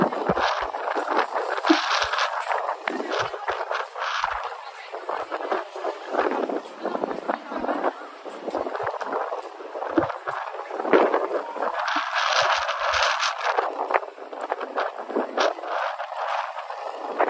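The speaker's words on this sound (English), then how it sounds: "Oh, it's so windy here." Strong wind buffets the microphone in gusty, roaring bursts that swell and fade, with faint outdoor activity underneath.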